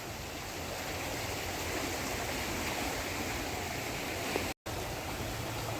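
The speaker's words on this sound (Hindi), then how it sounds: "और बहाव और माँ गंगा का शोर तो बहुत ही तेज हो रखा है।" A continuous, dense roar of the fast, flooded Ganges river current at Haridwar after heavy mountain rain, steady and loud throughout with a brief dropout near the end.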